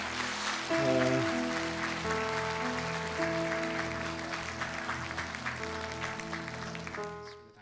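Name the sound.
church congregation applause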